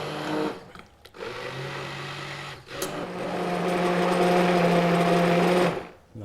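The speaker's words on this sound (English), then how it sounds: "Stick blender," Stick blender puréeing curried parsnip soup, starting at slow speed, a loud steady motor whir that briefly stops and restarts, then a long sustained run before cutting off.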